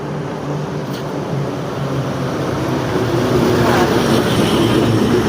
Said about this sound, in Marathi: साईडला मागं लक्ष ठेव ट्रक येते